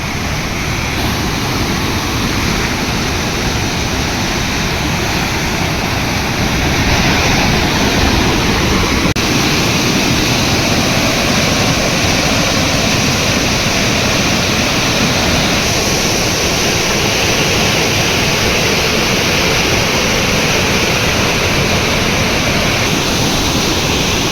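Water flows over a check dam (bandhara) near the Chandoli bypass at Rajgurunagar, making a loud, unbroken roar that stays steady and close throughout, with no talk.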